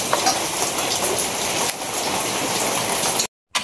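Heavy rain pours down during a power outage, a dense, loud, steady hiss of drops on surfaces that fills the clip before a brief cut near the end.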